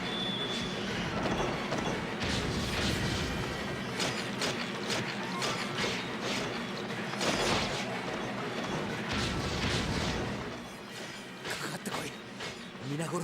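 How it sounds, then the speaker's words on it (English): Fireball explosions in the PS2 game Drakengard, a dense run of crashing blasts and booms over a busy game soundtrack, loud and continuous for most of the stretch before easing near the end. "the level 2 fireball causes 2 explosions instead of the 1."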